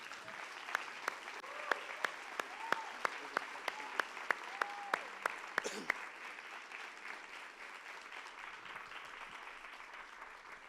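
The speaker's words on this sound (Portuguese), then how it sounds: "eu gostaria que você desse uma linda salva de palmas" Church congregation applauding during a worship service, fairly quiet and distant clapping with a few sharp louder claps standing out in the first half, then a softer crowd wash as it fades.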